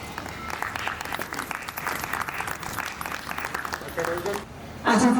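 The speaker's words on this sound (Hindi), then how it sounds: "तालियों के साथ स्वागत" Audience applause at an Independence Day ceremony at the Mahatma Gandhi Labour Institute, welcoming a guest to the stage; sustained, even clapping from a large crowd with a brief voice near the end.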